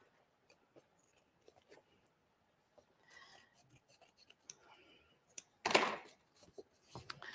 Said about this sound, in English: so I'm just going to use the scissors.